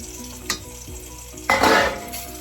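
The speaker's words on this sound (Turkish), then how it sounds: "Biraz fasulye de kavurtacağım." Green beans sautéing in a pan for a vegetable stew: a continuous near sizzle and frying hiss, with soft stirring scrapes and a louder burst of sizzling midway, with no talking.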